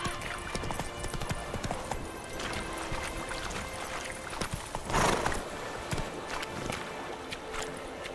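Hooves of Roach, the horse in The Witcher 3, clip-clop at a steady galloping rhythm throughout, fairly close and continuous, with faint game ambience behind.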